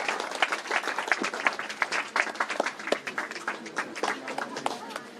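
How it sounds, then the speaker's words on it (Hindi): Dense applause from a crowd, many hands clapping steadily throughout, with some voices mixed in. "बजाओ ताली।"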